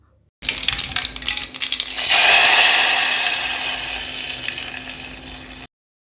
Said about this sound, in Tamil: எண்ணெய் காஞ்சோன்னா கடுகு கொஞ்சம் உளுத்தம் பருப்பு போட்டு தாளிச்சி